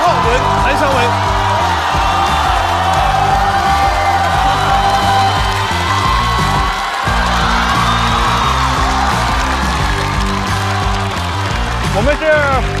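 A studio audience at a Chinese stand-up comedy show cheers and whoops loudly and continuously as a team is welcomed, a dense crowd roar throughout with some shouting.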